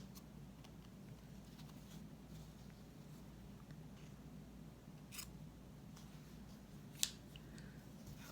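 Scissors snip off excess material while trimming a hat band for a gourd snowman craft, a few faint, scattered cuts over quiet room noise with one sharper snip near the end.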